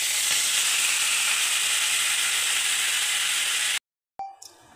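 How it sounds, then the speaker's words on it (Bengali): Curry leaves fry in hot oil with a loud, steady, close sizzle and crackle while a snack mix is prepared, then the sizzle cuts off abruptly into silence followed by a few faint clinks. "এইবার কারি পাতাটা ভাজবো, যা আওয়াজ করে ভাজবে ছচ্ছর করে, আওয়াজটা আপনাদের শোনাচ্ছি জাস্ট"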